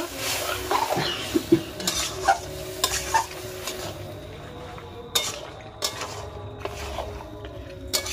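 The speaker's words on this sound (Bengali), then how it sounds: "লবণটা দিয়ে এবার নাড়িয়ে চাড়িয়ে দিব।" Goat meat sizzles in a frying pan while salt is stirred in, with scraping and clinking of a utensil against the pan in irregular strokes, fairly quiet and with no talking.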